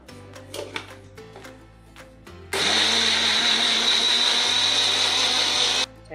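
A mixer grinder whirs loudly for about three seconds, blending crushed ingredients and yogurt into a paste for paneer seekh kebabs. The motor starts abruptly and cuts off cleanly after light kitchen clatter.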